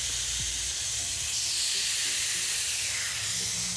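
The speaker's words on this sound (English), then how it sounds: "Ooh, I love a sizzle." Steady, loud hiss of tri-tip steak sizzling on a hot grill pan, a continuous crackling searing sound with low clatter underneath and no talking.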